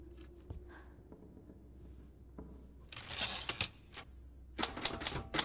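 Typewriter keys clack in quick irregular bursts, faint at first, then louder runs of rapid strikes with short pauses between, alone with no voices.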